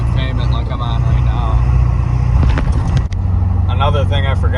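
A 1999 truck fitted with 14-inch-wide tires and a Rough Country leveling kit cruises on dry, smooth pavement, its steady engine and road drone low and constant throughout, with someone talking over it.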